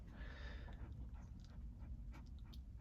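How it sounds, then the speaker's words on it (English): Dodger, a dog overheated in the desert heat at Quartzsite, pants faintly and rapidly in a steady rhythm beneath low background noise, with no talking. "Oh, he's hot right now. I'm like, why is he panting?"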